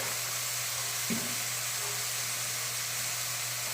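Ghee and white oil sizzle steadily in a pan, a close, continuous hiss of hot fat with a faint tap near the start and no voices.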